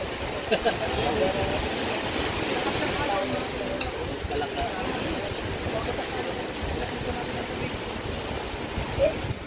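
Strong ocean surf churning as a continuous, loud roar with broad rushing wash and occasional swells, heard up close with no talk over it.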